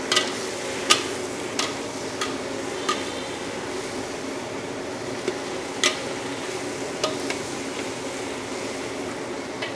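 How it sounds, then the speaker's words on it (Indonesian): Vegetables stir-fry in garlic oil for a catering order, a steady close sizzle broken by periodic sharp spatula taps against the pan, with no talk. "Kita oseng-oseng biar sayurannya semuanya wangi bercampur sama minyak bawang putih yang udah kita goreng"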